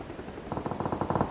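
A quick burst of rapid, muffled shots rattles off in a tight sequence, like automatic fire from a weapon in PUBG, fairly close and moderately loud.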